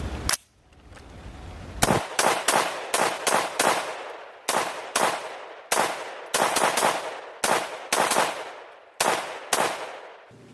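Rapid rifle gunfire over a red dot sight at a 3-gun range, a long string of loud sharp shots in uneven bursts, each with a ringing decay, carrying on for about ten seconds without talk.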